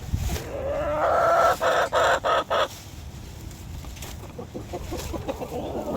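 Young backyard chickens give a quick run of loud, close clucks, followed by quieter scattered clucking and outdoor ambience.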